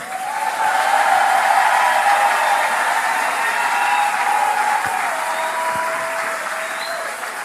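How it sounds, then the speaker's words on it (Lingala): A church congregation applauds and cheers in a large hall, a dense, sustained wash of clapping that holds steady for several seconds before easing slightly, with faint voices mixed in. "Est-ce qu'on acclame encore?"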